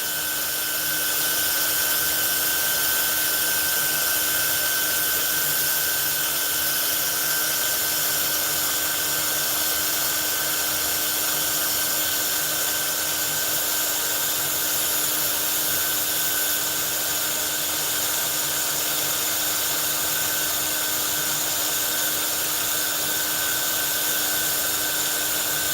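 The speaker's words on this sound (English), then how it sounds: "We don't even really want to sand much of the wood on this. We just want to sand off finish." A power sander strips the finish off wood with a constant, loud whine and grinding hiss that runs unbroken and close, with no talking.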